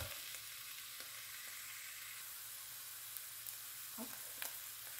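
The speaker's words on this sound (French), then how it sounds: "On mélange un petit peu. On va laisser rissoler donc comme ça." Chicken with potato and courgette browning in a pan, a soft continuous sizzle with a few light scraping stirs and a brief clatter near the end, fairly quiet and with no voices.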